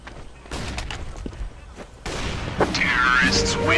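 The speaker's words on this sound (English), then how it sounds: "I'm throwing a flashbang!" A flashbang grenade detonates during a CS:GO match on PlayStation, a loud burst at about two seconds followed by a sustained bright ringing tone, with game noise and muffled gunfire underneath.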